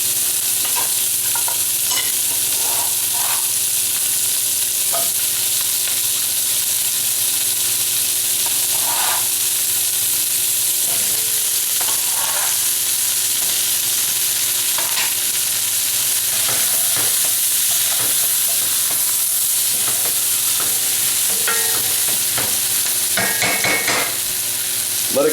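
Beef chuck roast cooks in a pot with a loud, continuous sizzle and occasional stirring scrapes, unbroken for the whole stretch and without any talking.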